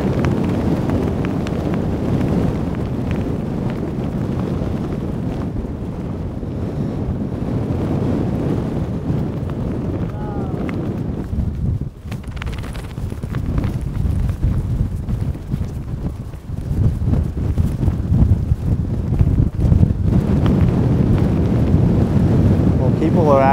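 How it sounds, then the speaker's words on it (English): Strong wind buffets the microphone out on the open Gaomei Wetlands coast in central Taiwan, a constant loud rumbling roar that dips briefly midway and then surges again. "Windy out here."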